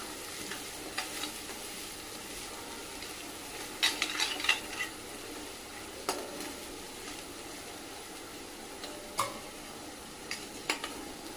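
A masala of onions and turmeric cooks in a pan with a low, constant sizzle. Occasional spoon scrapes and light taps break in, each one brief and close.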